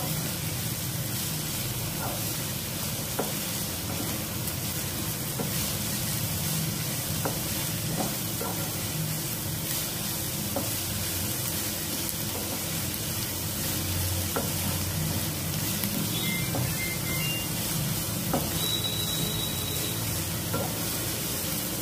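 Capsicum sautéing in oil, a steady close sizzle and crackle holding for a long stretch, with occasional faint stirring clicks and no voices.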